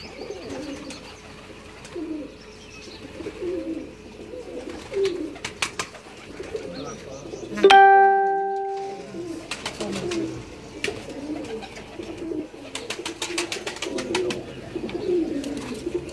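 Several pigeons coo in low, throaty rhythmic calls throughout, with a brief sharp whistle-like tone in the middle.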